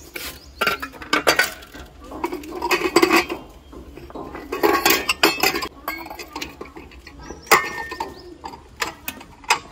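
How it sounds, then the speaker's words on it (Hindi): Dishes, pots and pans clatter and clink loudly and repeatedly as they are gathered up for washing, in irregular bursts of metallic knocks and scrapes with no speech. "सारे बर्तन इकट्ठे करके फिर धोएंगे।"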